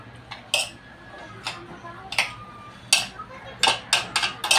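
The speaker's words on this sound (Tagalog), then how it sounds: "ihalo ko na siya para mas malasa" A metal utensil stirs pancit canton noodles with chili in a pan, giving close, irregular clinks and scrapes that bunch into quicker taps toward the end over a low, steady background hum.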